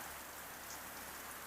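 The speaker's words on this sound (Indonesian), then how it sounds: "hujan yang terus-menerus" Steady rain falls in a continuous, faint hiss of drops on surfaces near a village health center, with no voices during the short stretch.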